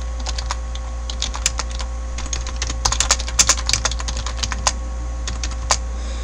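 Close, clattering keystrokes on a computer keyboard as text is entered in the Vi editor on Linux, irregular bursts of taps over a steady low electrical hum.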